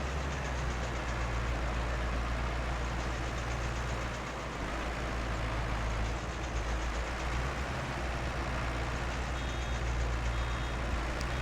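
A tractor engine in a farming video game, bogged down in a mountain of straw, drones at a steady loud level with faint reversing beeps throughout.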